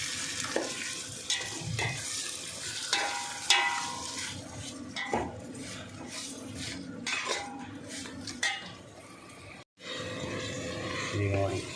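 Onions fry in a tempering with salt and turmeric for palak paneer rice. A steady sizzle runs under repeated scrapes and clinks of a spoon stirring the pan, while a voice talks intermittently.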